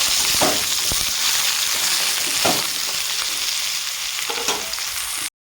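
Chopped ridge gourd sizzles loudly in a hot pan while a spatula stirs it, the steady frying hiss broken by a few scraping strokes, close up with no talking, then it cuts off abruptly.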